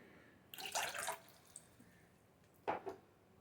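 Water splashes into a pan for making tea in two short pours, the first longer and the second a brief gush a couple of seconds later, both close with a quiet room between them.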